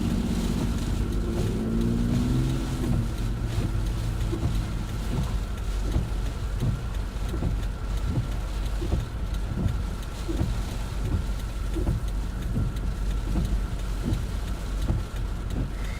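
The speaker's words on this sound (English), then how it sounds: "The wind is whipping here." Strong storm wind roars and buffets steadily around a vehicle during a severe-weather chase in the Michigan, Indiana and Ohio area, a dense continuous rush with rain-like patter and repeated gusty thumps, loud and close throughout.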